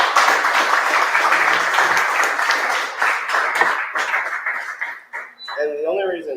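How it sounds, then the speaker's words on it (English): A conference audience at a JavaScript meetup applauds for a speaker, dense clapping that swells and then thins out over several seconds before a voice comes in at the close. "Give her another round of applause."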